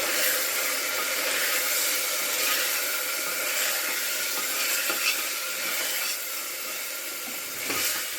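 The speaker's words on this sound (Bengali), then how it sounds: "এবার মশলার সঙ্গে মাংসটা কষিয়ে নেবো।" Meat fries in a pan with ground coriander and cumin, giving a steady, fairly loud broadband hiss that runs unbroken throughout with only small flickers.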